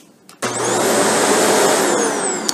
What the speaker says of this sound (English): So if we turn the vacuum on,